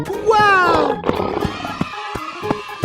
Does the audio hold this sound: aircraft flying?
no